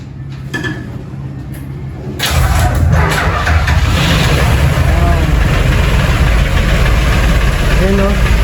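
A brand-new engine on a Pacific-going outrigger boat cranks briefly, then fires and settles into a loud, steady, close running idle, with people talking over it.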